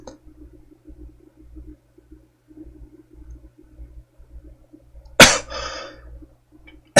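A single sharp cough bursts out near the end, loud and close, after a stretch of quiet low background murmur, with a faint trailing breath afterward.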